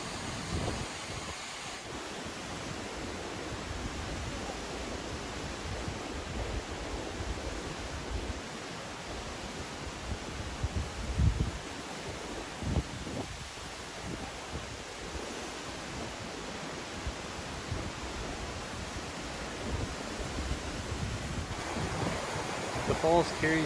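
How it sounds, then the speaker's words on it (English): Steady rushing roar of Cascade Falls, a snowmelt-fed waterfall in Colorado, heard from near the base of the falls as a broad, continuous wash of water noise with some wind buffeting. "you were just a short, easy hike away from the base of this fantastic waterfall"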